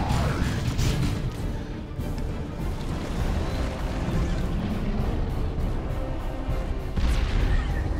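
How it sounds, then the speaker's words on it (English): A plasma cannon shot in the strategy game Dawn of War II: Retribution lands among the clatter of battle, with heavy booming impacts and crashes over continuous combat noise. "Plasma Cannon shot doing some damage to the Blood Crusher."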